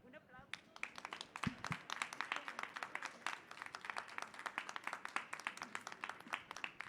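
Scattered hand clapping from an audience at a talk on preventing political violence, quiet and somewhat distant, with uneven claps that build slightly and continue steadily, a voice heard briefly at the start.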